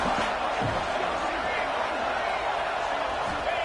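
Stadium crowd noise from the College Football 26 video game, a steady dense roar with no breaks, heard under a play-by-play commentator's voice.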